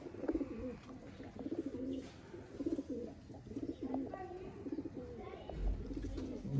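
Soft, repeated cooing of pigeons in a bush, in a rhythmic pattern, several calls overlapping at close range against faint background noise.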